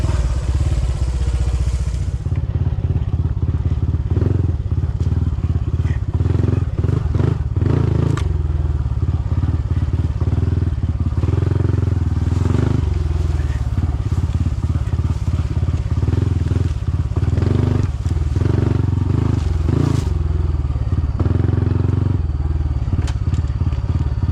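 A Honda CT125 small-displacement motorcycle grinds over hard enduro terrain, its engine droning loud and close throughout, with clattering, thumps and scraping from rocks and ground under the wheels.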